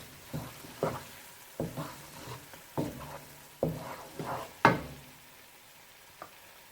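Crushed black pepper and chilli flakes fry in a pan for a Dhaba-style aloo palak and matar, with quiet sizzling punctuated by about eight distinct spoon-scraping stirs at irregular intervals.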